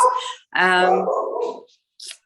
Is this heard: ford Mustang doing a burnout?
no